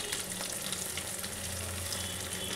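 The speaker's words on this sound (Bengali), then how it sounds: "দেখুন যে মশলাটা পিষে নিয়েছিলাম, সেই মশলাটা এটা আমি ঢেলে দিচ্ছি।" Freshly ground spice paste fries in a pan for a posto kofta curry, a dense, continuous sizzle and crackle at moderate volume with faint low background hum and no speech.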